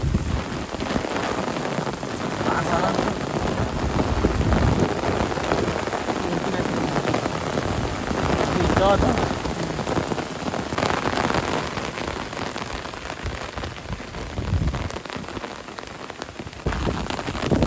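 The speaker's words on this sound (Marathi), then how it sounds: "आता पाऊस बघा इथे जोरदार आलाय" Heavy monsoon rain pours steadily onto surfaces near a flooded river, a dense, continuous hiss with gusts of wind and faint distant rumbles of thunder, lasting throughout with no voices.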